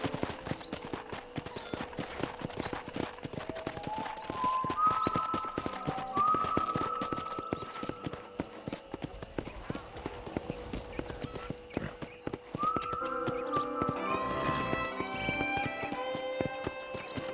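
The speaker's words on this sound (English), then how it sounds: "let's see if you can still ride a horse" Steady clip-clop of horse hooves at a walking pace in Red Dead Redemption, joined by a whinny and soft background music throughout.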